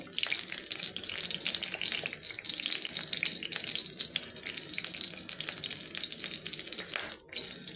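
Green chilies fry in hot oil in a pan for a Bengali bean and potato curry, giving a continuous, bright, crackling sizzle that stays close and fairly even, with no talking.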